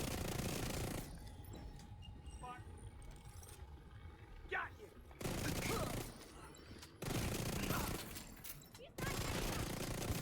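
Bursts of gunfire in The Division 2 played with an SMG build, several loud volleys separated by quieter stretches where a voice talks over the game sounds.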